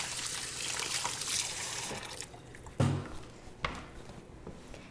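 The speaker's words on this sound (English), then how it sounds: "And wash my hands." A kitchen tap runs while hands are washed, a steady splashing rush for about two seconds, followed by a few sharp knocks and clatters.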